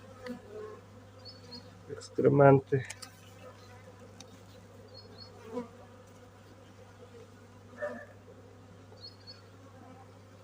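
Honeybees hum steadily around a full hive frame during an inspection, a constant close drone broken by a brief loud handling knock and a few louder passes; someone speaks briefly.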